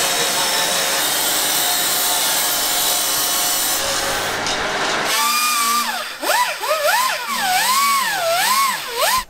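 Sanding down welded Audi RS4 alloy wheels: a loud, continuous abrasive rasping, followed by a tool whose pitch rises and falls in repeated wavering sweeps, close up.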